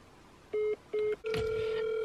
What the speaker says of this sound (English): Now she gonna look at the phone and let it ring.